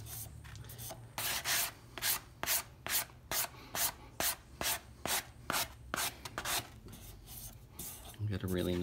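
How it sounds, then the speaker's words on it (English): A wooden Stanley hand plane tote being lightly sanded along the grain: about a dozen short, even rasping strokes in a steady back-and-forth rhythm, close and fairly quiet. "I'm just gonna lightly sand with the grain to remove and not create those cross grain scratches."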